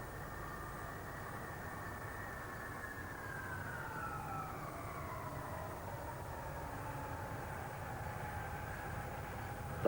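A Lockheed C-5A Galaxy heavy transport flies past at an airshow at Mildenhall, a distant, faint, steady jet drone whose whining engine tones slowly fall in pitch as it passes, without speech.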